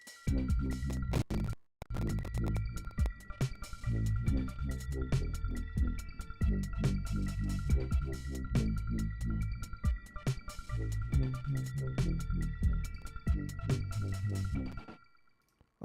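Resampled synthesizer sequence from a Reactor patch, with a dense, steady run of pulsing low tones and bright layered partials that drops out briefly near the start and then continues until fading out at the end.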